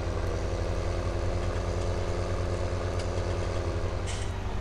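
A tractor engine in a farming video game runs in a steady, loud, low drone with a constant rumble and no breaks or talk.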